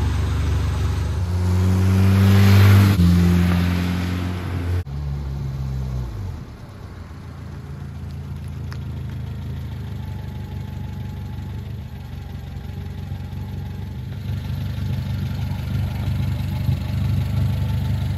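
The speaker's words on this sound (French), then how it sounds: "le petit moteur Cléon de la 4L" Renault Twingo fitted with the small Cléon engine from a Renault 4L, revving loudly at first, then dropping to a steady close idle that carries on alone.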